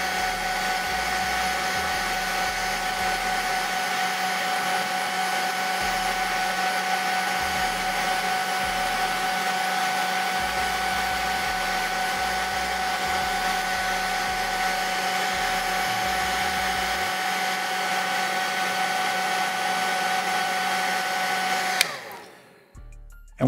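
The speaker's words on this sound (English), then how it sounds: "I'm just going to use my hairdryer to get the rest of it." A hairdryer blowing on a plastic tabletop miniature, a loud, steady, close whoosh with an even motor whine that runs unbroken for about twenty-two seconds, then cuts off abruptly near the end.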